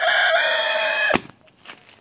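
A rooster in a chicken coop crows loudly and close, one long sustained call that cuts off abruptly, followed by softer clucks.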